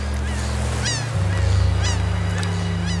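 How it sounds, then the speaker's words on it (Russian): A flock of geese honks repeatedly, with loud, close, overlapping calls over a steady low hum. "Олег, вон видишь, стаю птиц."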